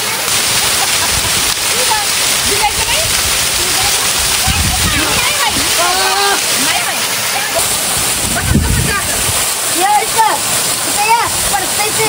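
Waterfall at Bhuibawada pours and splashes steadily and loudly throughout, with people talking and children's voices over the continuous rush of water.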